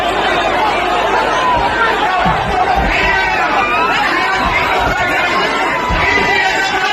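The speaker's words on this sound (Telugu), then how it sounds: "మనం చూడొచ్చు, ఇసుకేస్తే రాలంత జనం." A huge, dense crowd packed around a statue unveiling for Raja Singh: loud, continuous babble of many voices close by, with scattered shouts rising out of the steady roar.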